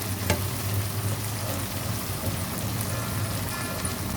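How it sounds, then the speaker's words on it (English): Chili paste with ginger garlic paste frying in hot oil for sambal pedas chicken, a steady close sizzle and crackle with a soft low rumble underneath, continuous throughout with no talking. "Stir your chili paste into the oil because you want them to cook."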